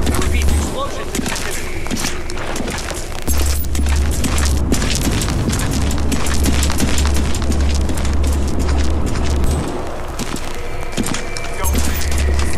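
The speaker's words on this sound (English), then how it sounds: "Explosions in my vicinity." Explosions in the Hitman Absolution stealth game come as repeated deep booms and rumbling blasts, loud and close. A voice speaks over the din.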